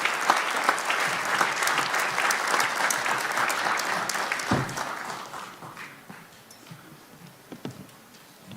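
A congregation bursts into loud, sustained applause welcoming Pastor Bruno at a church gathering; the dense clapping holds for several seconds, then thins out and fades toward scattered claps.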